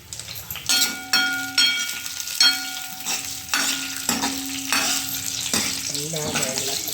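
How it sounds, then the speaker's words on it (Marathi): Raisins and almonds frying in ghee in a pan while preparing Nagari-style kheer, a steady close sizzle broken by repeated stirring scrapes and clinks of a spoon against the pan. "त्यानंतर हे सर्व जे मनुके बदाम जे आहे ते सर्व काय करायचे आहे तळून घ्यायचे आहे"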